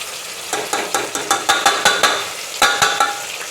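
Ginger garlic paste stirred into a hot pan for a home-cooked dish, with a steady sizzle and repeated scraping strokes of a spoon against the pan, close and fairly loud, no talking.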